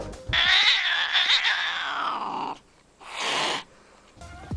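A house cat lets out a long, loud, drawn-out yowling meow close to the microphone, followed after a short gap by a second, briefer meow.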